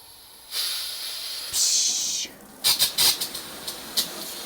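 Air hissing and spitting out of a water hose in cold weather, a steady hiss in bursts followed by short sputtering spurts, close by.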